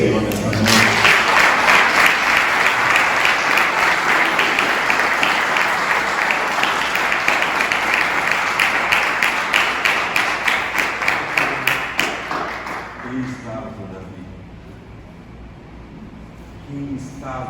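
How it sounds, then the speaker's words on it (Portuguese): A congregation at a Portuguese-language evening celebration service claps loudly, at first as dense applause and then as rhythmic, evenly spaced group clapping that thins out toward the end, with voices and music faintly underneath. "Você pode aplaudir o Senhor nesta noite."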